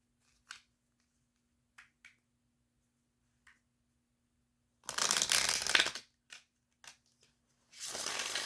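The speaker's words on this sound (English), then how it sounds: "I'm gonna get into it with your oracle cards here. Get you a shuffle." A few soft oracle card snaps and flicks, then a dense burst of riffle shuffling, more quick taps, and a second shuffle at the end.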